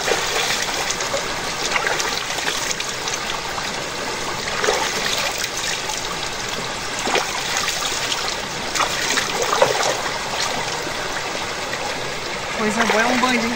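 Water flows and trickles steadily in a small stream at a rural smallholding, a continuous close wash of splashing with voices talking faintly underneath.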